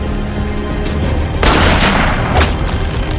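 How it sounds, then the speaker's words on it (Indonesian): Gunshots in a sniper movie scene: loud booming shots sound over a steady background rumble, and a second sharp blast follows shortly after the first. "Lalu Brandon pun menembak tali yang menggantung pastor, tetapi sialnya tembakan itu sedikit meleset"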